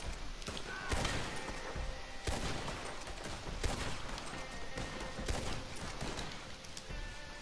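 Rifle fire from a video game shootout with bandits, heard as repeated sharp shots and bursts over a busy, dense in-game background, with a few brief voices mixed in.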